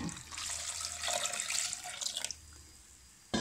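Water pours steadily into a cooking pot holding ginger, a bay leaf and turmeric powder for a traditional Indian butternut squash dhal, a rushing, splashing stream that runs close and loud for about two seconds, then quietens before a brief clunk.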